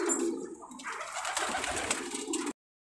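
High flyer pigeons coo from a large loft of 250-plus birds, with soft, repeated throaty calls close by over a constant airy background and no talking.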